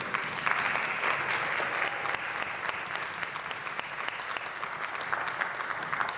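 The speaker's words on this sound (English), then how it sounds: "Let's get another round of applause for our kid orchestra." Audience applause for a kid orchestra at a high school symphonic band concert, sustained and dense clapping from a large crowd filling the hall steadily from start to finish.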